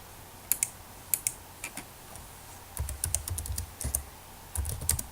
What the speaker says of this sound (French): J'écris sur Skype en fait en même temps.